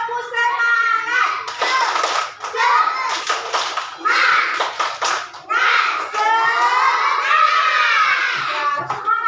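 Young children in a classroom clap along with their teacher in a rhythmic spirit-clap routine, bursts of clapping mixed with loud chanting children's voices in a lively, close group.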